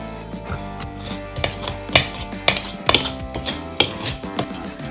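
A pastry cutter cuts butter and lard into flour and salt in a bowl, giving a string of close, irregular chopping clacks and metal scrapes against the bowl, with no talking.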